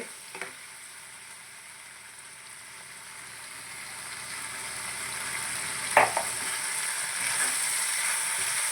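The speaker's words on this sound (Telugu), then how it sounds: "అంతా కలిపి లైట్గా మనం వేయించేసుకుందాము" A drumstick and dry fish tamarind curry base, seasoned with chili and coriander powder, fries in a pan under a soft continuous sizzle that grows slightly over time, with a couple of faint stirring scrapes.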